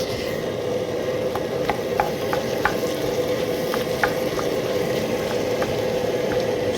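Chicken sizzles steadily in a hot pan on a camping stove, with occasional scraping stirs and small pops over a continuous frying crackle.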